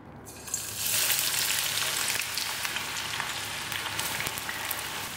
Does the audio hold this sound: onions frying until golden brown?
yes